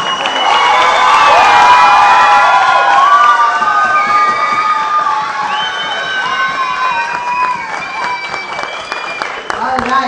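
A crowd cheers, whoops and claps at a casual office or team event, loud and busy with overlapping high shouts and voices, the roar tapering a little over ten seconds.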